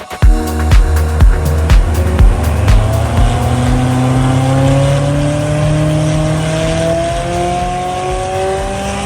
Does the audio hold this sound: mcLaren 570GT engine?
yes